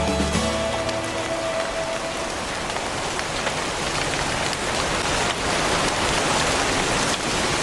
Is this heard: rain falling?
yes